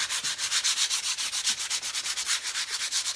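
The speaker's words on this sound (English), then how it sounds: "And the middle one, just sand over the letters" Sandpaper rubbed briskly over painted letters on a wooden farmhouse book stack, roughly a dozen quick, even back-and-forth strokes in a steady rhythm, close and fairly loud with no talking.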